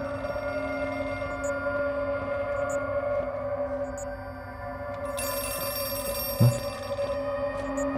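In the horror game Outlast 2, a telephone rings with a steady, bright electronic tone over a low humming ambience, the ring swelling partway through before a sharp thump near the end.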